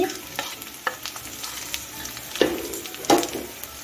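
Fried potatoes stirred into a pan with ginger paste and salt, a soft continuous sizzle broken by several scraping, clattering spoon strokes at irregular intervals.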